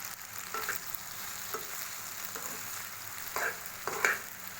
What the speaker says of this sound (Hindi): अब इसको अच्छी तरह से मिक्स कर लेंगे